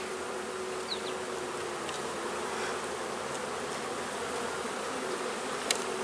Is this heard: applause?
no